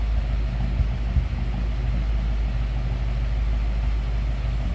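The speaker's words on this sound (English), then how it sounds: "Just listen to what that V8 sounds like." A 1957 Ford Ranchero's V8 idles steadily with a deep, even low rumble, close and continuous without a break.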